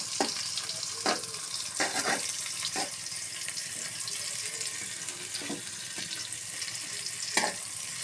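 Bay leaf, cinnamon and cardamom sizzle steadily in hot oil for a biryani, with a few short scraping stirs of the spoon breaking through the close, continuous frying hiss.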